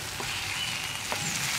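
Chopped tomato and onion frying in a pan make a steady close sizzle with a brief stir or two, and no one speaks.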